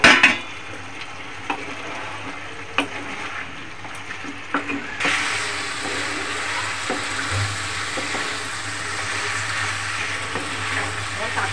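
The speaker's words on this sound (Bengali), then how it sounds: "টমেটোটাও দিয়ে দেবো, দিয়ে ফের কষাতে থাকবো।" Chili chicken with onions and tomatoes sautéing in a pan gives a steady, close sizzle with occasional stirring scrapes, growing louder and denser partway through.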